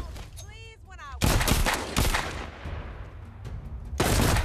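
Gunfire in The Walking Dead: Saints & Sinners, a VR zombie game, comes as several sharp, loud bursts with short gaps between them.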